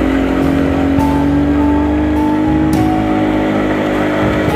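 A Honda CD 70 motorcycle engine held in first gear on a tour road near Mahodand Lake in Kalam: a loud, close, steady drone with rhythmic pulsing and slight rises in pitch as it labours.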